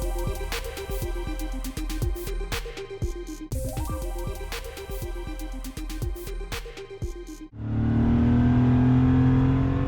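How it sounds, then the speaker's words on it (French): 1994 Porsche 911 with an air-cooled flat-six engine revving hard, rising and falling in repeated throttle blips, loud and close, then settling into a steady roar near the end. "Embarquons un instant dans une Porsche de type 911 de 1994, moteur 6 cylindres à plat, refroidi par air."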